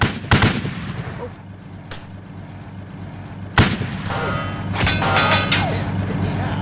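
Gunfire rings out at a tank in the game Easy Red, loud sharp cracks and booms in bursts with rattling fire near the end, and a man gives a brief exclamation.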